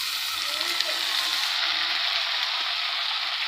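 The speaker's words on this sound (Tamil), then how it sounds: "இப்போது அதில் நல்லா வதக்கி விட்டுக்கலாங்க." Onions, green chillies and chopped tomatoes sauté in a hot pan, giving a steady, close frying hiss that runs throughout with a few faint stirring clicks and no talk.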